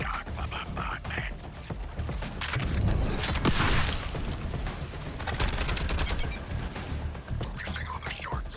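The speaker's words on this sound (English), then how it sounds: "Targeting shark for bombardment." Bombardment gunfire in the Suicide Squad: Kill the Justice League video game: a rapid, rattling barrage of shots builds to a loud peak and continues as dense, rumbling battle noise with metallic game effects.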